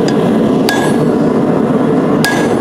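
A blacksmith hammers a hot railroad spike to make a half face set down for a forged decorative leaf, two sharp ringing blows about 1.5 seconds apart over loud, steady forge roar.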